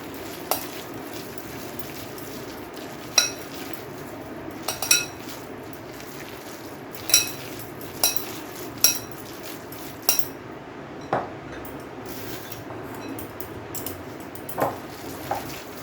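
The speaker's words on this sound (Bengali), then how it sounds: "সব কিছু দিয়ে আমি ভালোভাবে মেখে নিলাম চিংড়ি মাছটাকে" Shrimp for pakora get mixed with batter in a metal bowl, a soft squelching stir broken by scattered sharp clinks of spoon against bowl, close and unhurried, with no talk.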